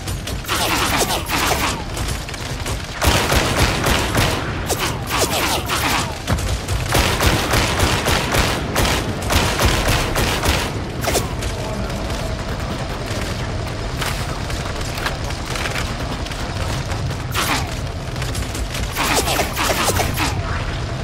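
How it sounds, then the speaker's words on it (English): Enemy gunfire rattles through a Warhammer 40,000: Darktide battle, dense bursts of automatic shots and booms, loud and close, with mechanical clanks continuing throughout. "Enemy ranged attacks cause suppression, making it harder to land accurate shots."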